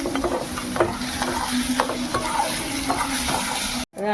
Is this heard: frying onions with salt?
yes